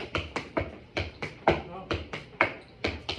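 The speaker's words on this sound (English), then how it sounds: "I'll just try to tap my toe without the heel on the floor" Clogging steps on a hard floor in a workshop setting, a series of sharp toe taps and heel-free steps in an even rhythm, close and distinct.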